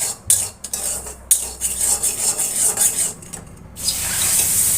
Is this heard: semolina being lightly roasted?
yes